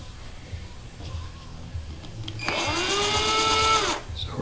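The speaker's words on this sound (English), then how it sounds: "Always spin the bit backwards, get through the lacquer" A drill bit spins in reverse against the lacquer finish of a 1970 Gibson J-50 acoustic guitar, a steady motor whine rising for about a second and a half before cutting off, close and fairly quiet.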